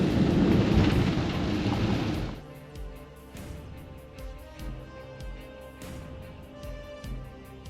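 Heavy rain roars for a couple of seconds, then eases into a lighter patter with scattered drips and taps nearby.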